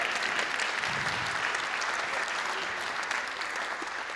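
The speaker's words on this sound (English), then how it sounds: "Another round of applause for Ben Lawrence." Audience at a seventh grade middle school band concert breaks into steady, even applause, a dense wash of clapping that fades slightly toward the end.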